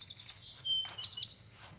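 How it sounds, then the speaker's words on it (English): A bird sings in a memorial garden in summer, a quick series of bright chirps and tweets at close-to-moderate distance over faint background noise. "That bird's singing a pretty song, whatever it is."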